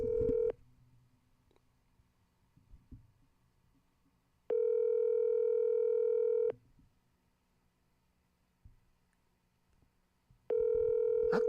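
Telephone ringback tone sounding in long steady bursts separated by quiet gaps, clear and electronic, with faint handling noise between rings.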